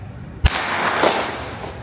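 A Ruger RPR bolt-action rifle chambered in .22LR fires a single sharp shot, a short crack followed by a brief fading tail in otherwise quiet outdoor surroundings.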